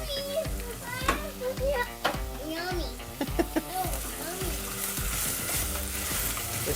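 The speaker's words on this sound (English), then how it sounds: "Not a strong sizzle." Chopped onion and celery sweat in a pan with a soft, steady sizzle. Stirring noises and other background sounds partly cover it.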